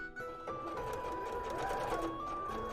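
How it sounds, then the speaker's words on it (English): Sewing machine running steadily along the edge of a plushie's fabric, a close, continuous whirring drone with a faint whine, no talking. "One, and then sew the other edge."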